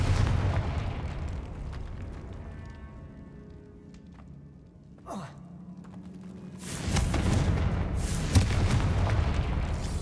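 A Confringo fire spell in Hogwarts Legacy goes off as a single sharp blast about two-thirds of the way through, followed by a loud, sustained rumbling burst that trails off amid low ambient game sound.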